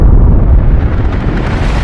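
Volcanic eruption blast, a loud close boom with dense low rumbling that surges at the start and then rolls on as a sustained roar for under two seconds.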